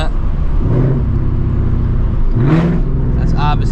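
A loud, straight-piped S650 Mustang GT engine drones and rumbles up close with exhaust valves fully open, with brief swells of revving, while a voice talks over it.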